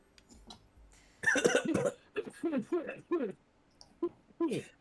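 Someone coughs repeatedly in a rough, uneven series of hacking bursts, close by, with strained vocal sounds between coughs.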